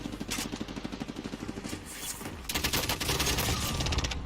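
Call of Duty Warzone gunfire with thermite rounds rattles in rapid, steady bursts, a dense rhythmic volley that grows louder and continuous in the second half, close and without talk.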